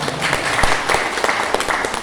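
A seminar audience breaks into applause, a dense wash of many hands clapping close and loud, with a few sharper claps standing out.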